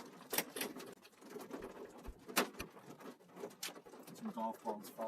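Raindrops and hail strike during a severe West Texas storm near Bushland, with scattered sharp impacts and irregular pattering at close range under faint voices.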